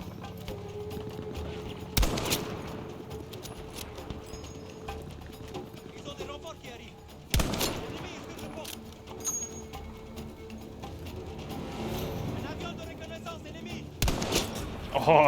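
Gunfire in a Battlefield 5 campaign battle, with three loud single shots spaced several seconds apart over rattling background noise and someone talking.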